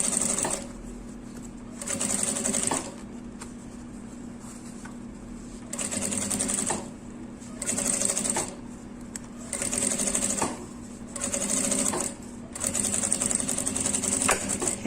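A sewing machine stitches around a seam while sewing the lining of an essential-oil holder, running in several bursts of steady mechanical whirring separated by short pauses.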